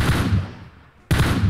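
Gunfire in the PUBG battle royale game, a dense broadband burst of shots that cuts out briefly and then resumes just as loud, close and continuous.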